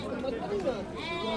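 A ram bleats at a crowded livestock bazaar in Samarkand, a short wavering cry half-buried under steady nearby talking and market chatter.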